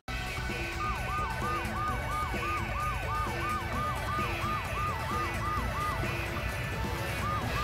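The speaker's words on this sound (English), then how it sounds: "This boat has a siren. I'm sure of it." A police-style siren on the Triton Patroller boat in the Just Cause video game wails steadily up and down in a fast repeating cycle, loud and close throughout with no talk over it.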